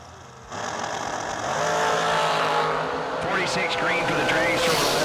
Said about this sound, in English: Dragster over the left side.